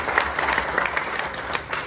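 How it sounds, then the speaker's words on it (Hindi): An audience at an Arya Samaj martyrs' day gathering claps loudly for a child, a dense, continuous round of applause nearby that never lets up. "जोरदार ताली बजा दो एक बार इसके लिए।"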